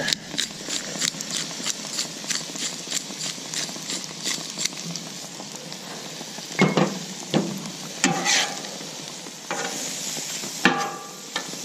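Shrimp sizzling on a Camp Chef 600 flat top griddle, with a steady fry punctuated by sharp metal spatula clacks and scrapes, some in quick bursts, close and without talk.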